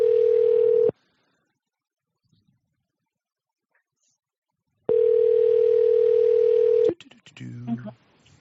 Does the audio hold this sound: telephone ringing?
yes